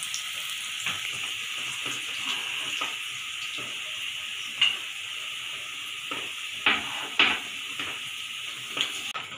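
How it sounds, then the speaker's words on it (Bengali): Potatoes frying in mustard oil in an iron wok, a steady soft sizzle running throughout with occasional sharp clinks and scrapes of a utensil against the pan, close and fairly quiet, no voices. "আলুটাকে ভেজে নেওয়া হচ্ছে।"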